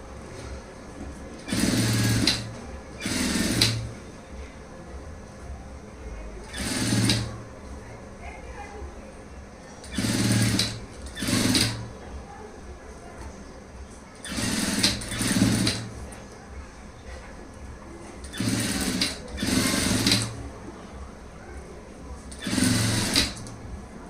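A sewing machine stitches thread-cord piping in short bursts, about eight runs of rapid mechanical whirring separated by pauses, with a person talking between and during the runs.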